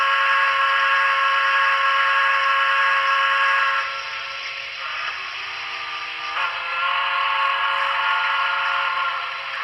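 A steady, sustained steam whistle tone from an N scale USRA Mikado model locomotive, with harmonic layers, shifting pitch slightly partway through and continuing without pause, loud and close.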